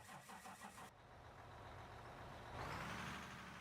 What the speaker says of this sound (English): All right, let's move this truck away.